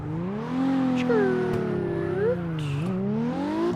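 A car drifts in the CarX video game played with a wheel, the engine revving up and down in sweeping pitch changes with faint tire squeal, loud and continuous throughout.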